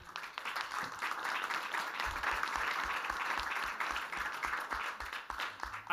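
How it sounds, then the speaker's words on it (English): A conference audience at the COP24 World Climate Summit breaks into sustained applause, a dense steady wash of clapping hands filling the hall. "I think with your applause"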